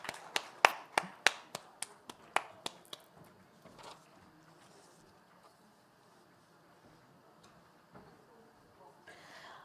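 A brief burst of scattered audience applause at a G20 digital economy working group meeting in Hyderabad quickly thins to a few isolated claps, leaving a quiet hall with faint voices.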